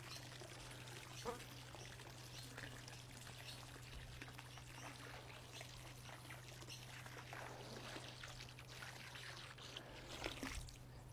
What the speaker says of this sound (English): All right, now just pouring it in the pool.